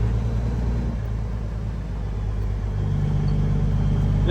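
Semi truck hauling doubles in Alaska, a steady loud diesel engine rumble from inside the cab with constant road noise and no talk.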